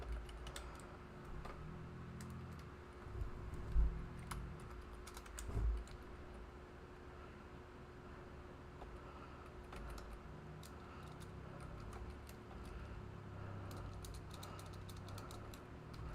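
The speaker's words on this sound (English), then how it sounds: "I'm typing." Quiet clicking of keys on a computer keyboard during a gaming livestream, irregular bursts of soft taps with brief pauses and a couple of louder thumps, over a low steady electrical hum.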